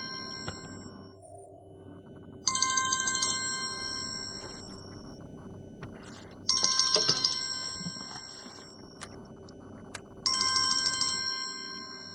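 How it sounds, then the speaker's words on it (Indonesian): Phone ringtone ringing unanswered, three separate bursts of a bright electronic melody spaced several seconds apart, fairly close and clear over a quiet indoor background with no talking. "Lama banget gak angkat telepon."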